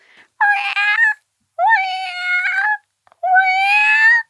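A man does a vocal imitation of a cat, giving three drawn-out, wavering meows separated by short silences, close to the microphone.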